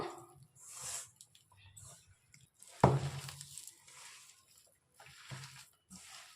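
A hand squishes and kneads spinach into thick gram-flour batter for palak pakoda, giving soft wet slaps and squelches in bursts, with one louder squelch partway through, fairly close and quiet.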